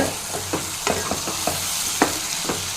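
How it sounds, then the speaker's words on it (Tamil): Cubed potatoes sauté in a pan for a potato and peas gravy, a sizzling bed broken by a string of scraping stir strokes and light clacks, close and without speech. "அதையும் சேர்த்துட்டு நல்லா வதக்கி விடுங்க."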